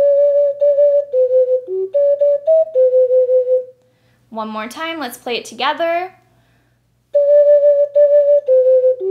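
Ocarina playing a melody, a pure whistle-like tone in steady notes that pauses while someone speaks and then resumes.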